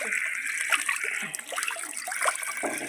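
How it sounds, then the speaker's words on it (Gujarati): Hands being rinsed under running water in a home kitchen, a steady splashing trickle close by with brief spatters throughout, while faint talk sits in the background. "पानी टॉके हाथ धो दिए"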